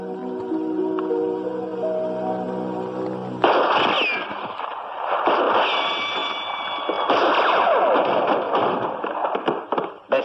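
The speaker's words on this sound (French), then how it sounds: "Des coups de feu, des coups de feu, je les ai entendus." Gunfire sound effect in a French radio drama: after a quieter stretch, sharp, loud, rapid bursts of shots crackle and overlap densely for several seconds.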